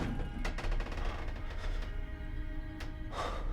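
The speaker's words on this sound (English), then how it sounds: "They heard the gunshot." A gunshot rings out during an episode of the Squid Game TV series, with sharp broadband bursts standing out over a dense, continuous background of dramatic score and ambience.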